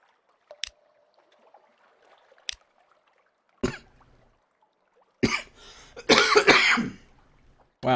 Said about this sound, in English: for some reason I just randomly coughed